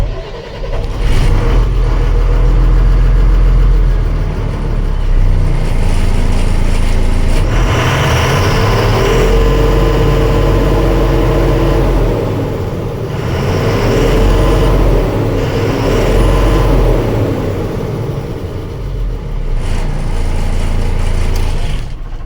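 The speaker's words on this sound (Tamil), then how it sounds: "ஸோ வண்டியோட என்ஜினை நான் இப்போ ஸ்டார்ட் பண்ணி காமிக்கிறேன் பாருங்கள்." A 2017 BS4 fourteen-wheel lorry's diesel engine fires up and settles into a steady, loud, close rumbling idle with slight surges in revs, no talking over it.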